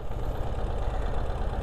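A Ural sidecar motorcycle idles, giving a steady, continuous low engine rumble throughout with no talking.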